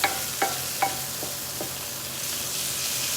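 Tomatoes cooking down in oil in a cast iron skillet give a soft, steady sizzle, with a few sharp wooden spoon knocks against the pan near the start, close and fairly loud.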